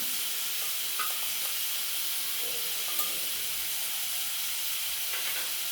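A ground paste of cumin, coriander and pepper, with ginger paste, sizzles steadily in a pan for ghugni. A soft, even hiss runs throughout with a few faint clicks of stirring and no voices.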